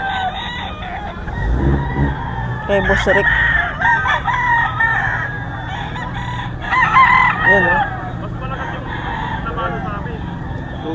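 Several roosters crow repeatedly at a gamecock market in Bocaue, loud and near, their calls overlapping amid clucking while people talk nearby.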